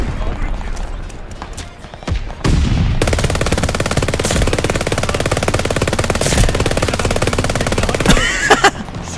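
Turret machine gun in Call of Duty: Vanguard firing a long, loud, steady stream of rapid shots with a brief pause near the end; a voice speaks briefly before the firing starts.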